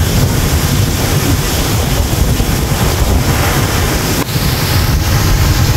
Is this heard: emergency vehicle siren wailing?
no